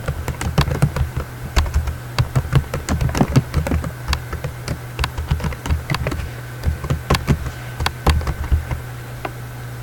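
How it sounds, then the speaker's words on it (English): Rapid, uneven keystrokes on a computer keyboard as a password is entered, a close, steady run of clicky taps over a low hum, with no voices. "Let me type that again."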